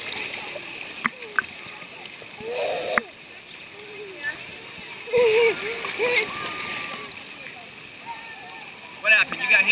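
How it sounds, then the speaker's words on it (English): Water splashes and slaps as a child swims with an ice floaty in a pool, with intermittent bursts of splashing and nearby children and adults talking over it. "I'm swimming with that ice floaty."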